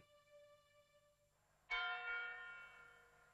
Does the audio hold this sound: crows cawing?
no